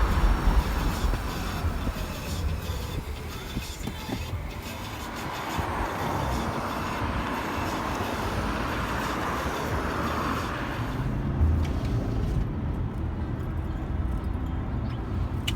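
Steady, loud road roar fills the cabin of a moving car running on BFGoodrich G-Force Comp-2 A/S tires, a continuous broadband rumble that shifts slightly in tone partway through.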